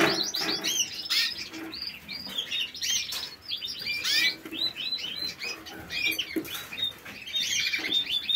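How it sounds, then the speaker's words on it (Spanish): A songbird sings near an aviary, giving many quick, bright chirps and trills at moderate distance, with wing flutters and other small bird calls mixed in throughout. "Hay un pájaro por ahí cantando de los nuevos que quiero ver si lo localizo"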